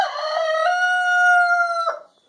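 A chicken crows once, loud and close, in a single sustained cock-a-doodle-doo that trails off at the end.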